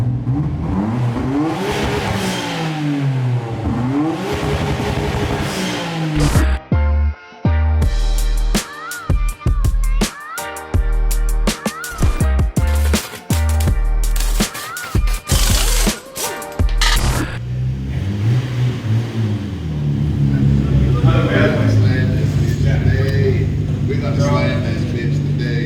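A Nissan Skyline R33 GT-R fitted with GReddy parts revs hard in a run of sharp, loud throttle blips that rise and fall repeatedly, with a steadier idle before and after and people talking over it.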